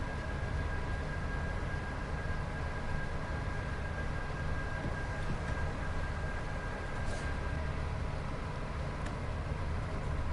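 Heavy freight train running in Train Sim World 5, a steady continuous rumble of engine and rolling wagons with a faint high whine, even and unbroken throughout with no talk.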